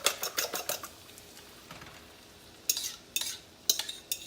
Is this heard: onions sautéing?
yes